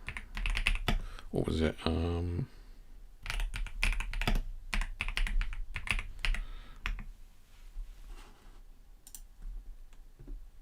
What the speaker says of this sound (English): I was typing around the microphone.